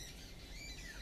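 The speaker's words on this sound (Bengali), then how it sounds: "পাখি ডাকছে" Birds squawk and chirp faintly at a distance in an early-morning household setting, brief harsh calls above a soft background hum, with no voices.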